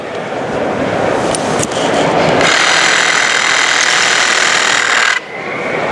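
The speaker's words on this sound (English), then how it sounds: "So whether you're using the hand pump or our battery-operated power unit," A Hurst battery-operated hydraulic power unit for Jaws of Life rescue tools runs at a trade-show booth with a steady mechanical whine and rattle. It grows louder and denser partway through, then drops off near the end.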